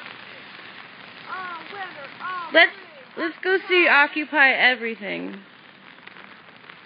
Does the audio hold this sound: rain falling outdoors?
yes